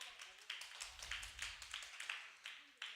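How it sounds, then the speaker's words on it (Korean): A small group claps together during a church worship service, sharp irregular claps that are fairly quiet and close, with a voice heard among them. "다 같이 박수."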